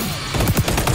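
A quick burst of rapid gunfire in the FPS game XDefiant, several sharp shots in fast succession within about a second.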